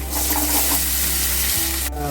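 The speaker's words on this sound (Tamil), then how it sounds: "பூண்டு பாருங்கள் நல்லா வதங்கிட்டு இருக்குது" Close, loud sizzling of chopped garlic frying in hot oil, with stirring scrapes and a steady low electrical hum beneath.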